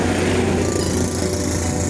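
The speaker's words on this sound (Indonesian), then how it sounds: "Itu pengerjaan baru pengeboran tanah yang buat fondasi untuk terowongan Jalan Jatinom Ngawen" A steady, dense mechanical roar and rumble from a drilling rig boring into the ground for a tunnel foundation at the Jatinom road site on the Jogja–Solo toll project, heard continuously from a distance.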